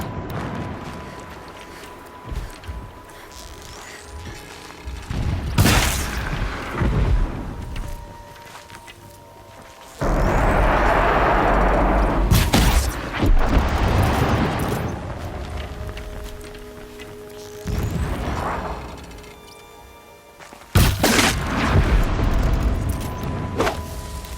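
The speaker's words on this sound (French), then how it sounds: "Des explosions au loin." Distant explosions in the video game Horizon Zero Dawn, several deep rumbling booms arriving in separate bursts with quieter ambience between them.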